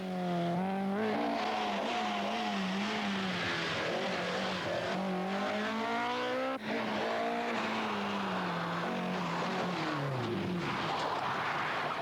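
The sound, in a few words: rally car driving at speed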